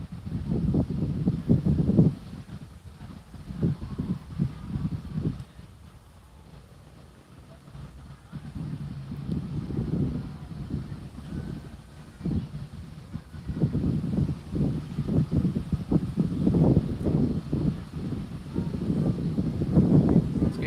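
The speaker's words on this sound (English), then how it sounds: "I am attempting to block the wind, but it is quite windy right now." Strong wind buffets a microphone at a railroad turntable in Summerville, Georgia, in loud, rumbling gusts that rise and fall, easing briefly in the middle before surging again.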